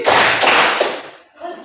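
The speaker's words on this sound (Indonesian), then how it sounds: "Tepuk tangan 2 kali." A classroom of students claps hands in response to a teacher's cue, a loud burst of overlapping claps followed by a second, then the sound fades into a brief quiet with a short voice at the end.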